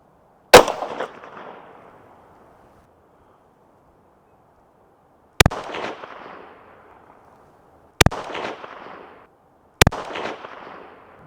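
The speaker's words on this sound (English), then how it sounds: "Now let's take 4 shots and make necessary adjustments." Four loud, sharp rifle shots fired at a target, each a crisp crack trailing into a brief fading echo, spaced irregularly over several seconds with near silence between.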